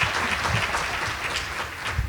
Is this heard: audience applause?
yes